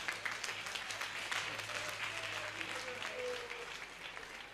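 A church convention audience applauds in praise of Jesus, with steady, dense clapping from a crowd throughout and a faint hum underneath.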